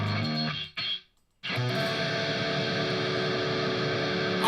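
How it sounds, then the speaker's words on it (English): A heavily distorted electric guitar seventh chord rings, cuts off for a moment, then is struck again and sustains loudly. "Never play 7th chords with full distortion."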